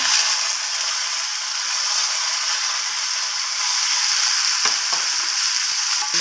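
Tomatoes added to a ginger and chilli paste with dried chillies, fenugreek and bay leaves sizzle loudly and steadily in a frying pan, with occasional stirring scrapes and no talk.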